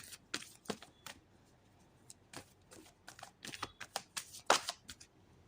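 Tarot cards shuffled and drawn from the deck, scattered soft slaps and flicks building into a denser run of crisp snapping near the end, close and quiet, with no one talking.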